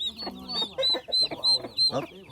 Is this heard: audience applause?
no